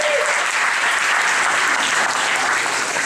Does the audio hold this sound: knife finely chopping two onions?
no